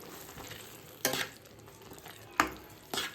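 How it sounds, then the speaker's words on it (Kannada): Masala with coriander powder and rock salt fries in oil, a faint low sizzle punctuated by three distinct scraping stirs spaced about a second apart, with no talking. "ಇಷ್ಟು ಹಾಕಿ ಫುಲ್ ಆಯಿಲ್ ರಿಲೀಸ್ ಆಗೋವರೆಗೂ ಇದನ್ನು ಫ್ರೈ ಮಾಡ್ಕೊಳ್ಳೋಣ"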